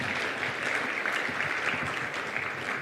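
An audience at the Merck Foundation Africa Asia Luminary meeting in Tanzania claps steadily, a dense, even wash of applause with no single voice standing out.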